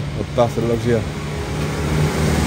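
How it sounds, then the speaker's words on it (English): A car reversing along a street in Mostar, Bosnia and Herzegovina, heard as a low, steady engine drone beneath a man's brief spoken words. "Why is this car reversing now?"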